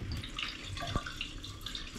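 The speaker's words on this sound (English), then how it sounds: "drain out the water." Water draining out of a cyanotype print rinse tray, a quiet, continuous trickling and gurgling close by, with one brief knock partway through and no voices.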